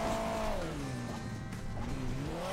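A formula race car in the mobile game Hill Climb Racing 2 drives with a steady, loud engine whine whose pitch rises and falls as it speeds up and eases off, with no gaps throughout.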